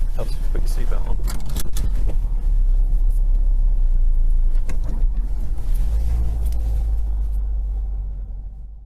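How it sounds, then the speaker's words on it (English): A car drives along the road, heard as a steady low engine and tyre rumble from inside the cabin with some clicks and knocks, fading slightly at the end. "Now all we need to do is go driving."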